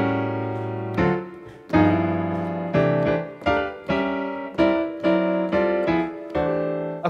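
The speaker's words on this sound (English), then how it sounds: "the most important chords for you to learn are called quartal voicings, and they sound like this." Jazz piano quartal voicings, chords stacked in fourths, sound alone in a series of about eight struck chords that each ring and decay, moderately loud and close.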